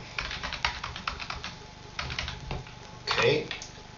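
Keys on a computer keyboard clatter in quick irregular bursts as a password is typed, with brief pauses between runs and a faint voice underneath.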